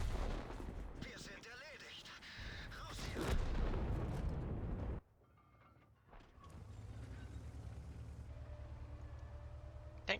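Artillery in the World of Tanks video game fires heavy rumbling booms that swell over the first five seconds, then cut to a quieter low mechanical hum with a faint thud near the end.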